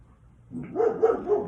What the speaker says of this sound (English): while dogs are barking